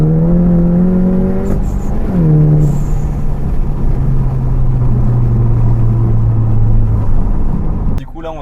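Volkswagen Golf 7 engine and exhaust while driving, a steady low drone that climbs, drops on a gear change, then settles into a sustained hum loud inside the cabin.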